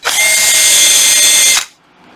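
A Makita cordless concrete hammer drill with a dust-blowing function whirs at high, steady speed for about a second and a half, loud and close, then cuts off abruptly.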